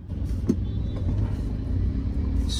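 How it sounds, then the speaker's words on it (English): Road traffic heard from inside a moving vehicle, a continuous low rumble of engines with a faint higher hiss near the end. "this is probably traffic"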